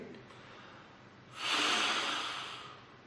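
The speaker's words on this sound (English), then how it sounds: "I have exhaled very heavily" A single heavy exhale blown into a breath sensor: a close, loud breathy rush starting midway, swelling then trailing off, after a quieter stretch of faint breathing.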